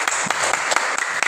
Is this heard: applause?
yes